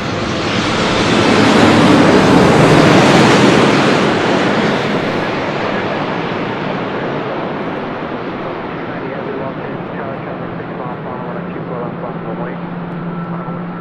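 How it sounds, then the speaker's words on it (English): A Hawaiian airliner jet takes off from runway 24 left, a loud roaring rush that swells over the first few seconds and then fades to a steady distant rumble. "Short funnel for 24 left as Hawaiian that takes off"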